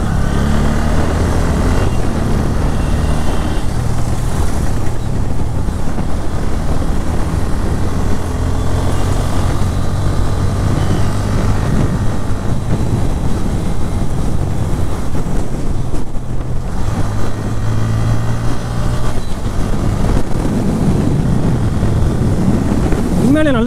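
Bajaj Pulsar N160 motorcycle accelerating up a bridge, a steady loud engine drone with heavy wind rush throughout, continuous and close for the whole stretch.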